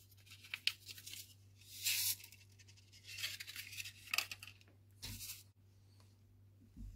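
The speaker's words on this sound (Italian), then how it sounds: "Prendiamo la bustina di biochetasi, la apriamo e la mettiamo nel nostro bicchiere d'acqua." A Biochetasi medicine sachet torn open by hand, with a few short, quiet crinkly rips separated by pauses against a faint steady hum.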